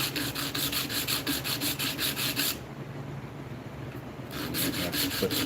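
A thin wooden pendant rubbed against heavy-grit abrasive on a stand, giving steady rhythmic rasping strokes that pause briefly in the middle and then resume, close and fairly loud.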